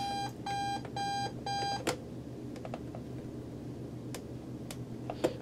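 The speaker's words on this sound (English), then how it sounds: "Just your typical alarm tone." The alarm of a GE clock radio with cassette, model 7-4915A, beeps in a quick series of evenly spaced bursts, then stops, leaving low hum and a few faint clicks.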